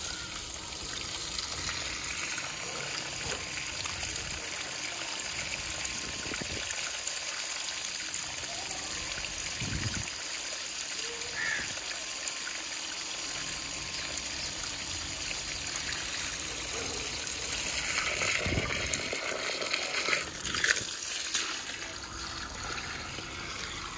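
Water pours and gushes steadily while plants and a neem tree are watered in a Pakistani village, a continuous close trickling flow with occasional louder splashes and no talk.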